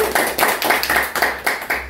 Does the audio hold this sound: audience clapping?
yes